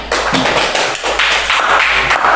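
Classroom applause for a student in an Indonesian language lesson, a steady patter of clapping hands from a group of pupils, close and fairly loud.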